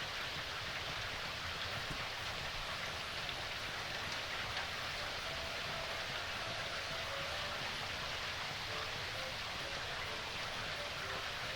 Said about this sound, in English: I do wish it weren't so loud inside buildings when it was raining